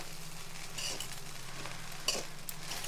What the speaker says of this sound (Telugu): ఫ్రైడ్ రైస్కి కొంచెం హై ఫ్లేమ్ మీద పెట్టి బాగా కలుపుకోవాలి